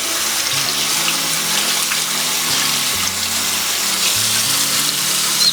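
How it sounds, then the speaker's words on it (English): A makeup sponge is rinsed under a running tap, giving a steady broadband rush of water that holds an even level for several seconds, alone and close by. "Now I'm going to rinse this out."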